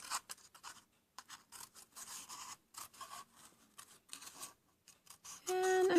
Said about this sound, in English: And I just cut that bottom part off.